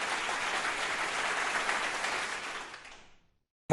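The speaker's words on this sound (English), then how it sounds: "Ladies and gentlemen, a round of applause for KIMS COVID Hospital." An audience at a Bhubaneswar health awards event gives steady, moderately loud applause for a COVID hospital, holding evenly before fading out and stopping near the end.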